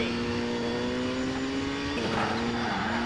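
A Citroen rally car engine from a World Rally Championship game holds a steady high-pitched drone at full throttle, then shifts gear with a brief pitch drop. The car is heard alone at close range.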